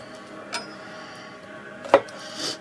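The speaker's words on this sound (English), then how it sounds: "The chopping of the garlic and the escarole is the most work" A knife chops garlic on a cutting board while preparing escarole and bean soup, a few sparse, close knocks over a faint room background.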